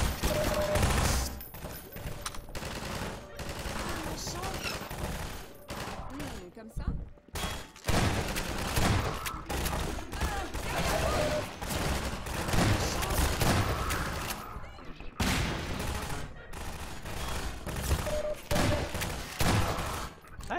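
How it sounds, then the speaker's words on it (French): Repeated loud gunfire bursts in the video game Half-Life 2, including shotgun blasts, fill the clip almost continuously with brief gaps, while someone talks over the shooting. "Alors, fusil à pompe,"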